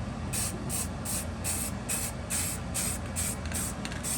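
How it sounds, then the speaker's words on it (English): Orange spray paint hisses out in a steady run of short, evenly spaced bursts onto a 1968 Chevy Nova engine damper, loud and close, with no voices. "I'm gonna go ahead and spray the orange on the other side of this damper."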